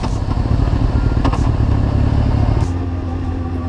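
A motorcycle rides into the village of Kaltenborn near the Nurburgring in Germany. The engine drones loud and steady from the rider's position, dropping slightly in pitch toward the end.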